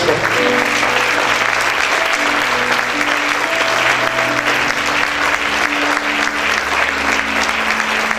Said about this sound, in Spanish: Dale ese fuerte aplauso.